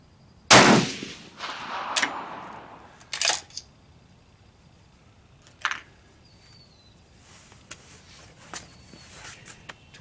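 Rifle shots from a Steyr at an outdoor range: a loud sharp report at the start, then a few more distinct bangs spaced seconds apart with quieter faint clicks between.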